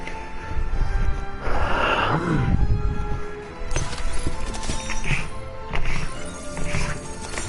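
Horses in the Agents of Mayhem video game whinny and neigh loudly over a busy game soundscape, with a clear drawn-out neigh early on and galloping hoofbeats throughout.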